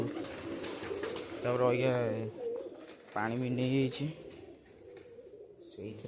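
Pigeons coo in two clear, rolling bursts close by, with people talking in the background.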